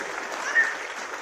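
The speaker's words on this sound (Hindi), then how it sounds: "हम सबको तालियां बजाकर उनका बधाई देनी चाहिए।" Applause from an event audience gathered for a sports and national anthem unveiling, a short burst of steady, even clapping at moderate level.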